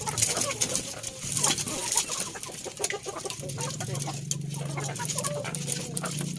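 KUB chickens clucking and calling at close range, with bird chatter and background noise throughout and a low steady hum in the second half.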